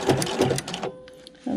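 A sewing machine with a ruffler attachment stitches fabric in a fast, steady whir that stops briefly, then gives a short final burst; close and clear, with no talking.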